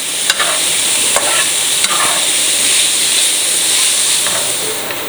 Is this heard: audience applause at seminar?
no